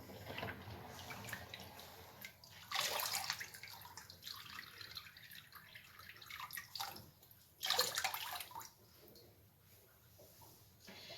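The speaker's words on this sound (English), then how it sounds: "And I'll drain this water." Rinse water from washed Jacob sheep fleece drains away in gushing, gurgling bursts, quiet and close, with splashing surges and softer trickling between them.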